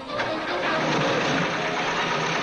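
A cartoon engine cranks and starts, a busy rattling mechanical chug held steady and loud at close range for a couple of seconds, with no talk over it.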